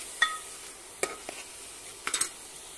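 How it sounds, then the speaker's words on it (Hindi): Onion and mixed vegetables sautéing in a pan make a soft, faint sizzle, broken by a few sharp clicks and scrapes of a spoon stirring. "अब साथ ही साथ सारी सब्जी को डालते हैं और इन सबको फिर से भूनते हैं।"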